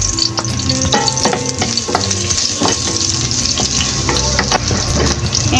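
Garlic sautéing in hot cooking oil in a pan for tortang ampalaya, a loud continuous close sizzle with crackling pops and occasional stirring scrapes, no talk.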